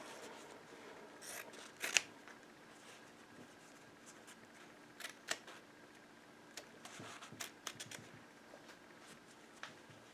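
Scissors snip into fabric while a front bodice single-dart drape is shaped. The quiet, sparse clicks and crisp cuts come in scattered short bursts over near silence.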